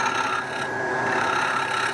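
A hollowing gouge cuts into wood spinning on a lathe, giving a steady, close rasping scrape that holds constant for the whole moment.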